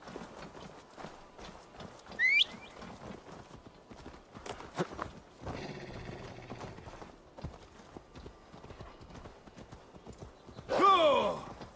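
Horse hooves clip-clopping at a steady, rhythmic pace in a video game, with two short, sharp louder bursts early and near the end standing out over the ongoing game sounds.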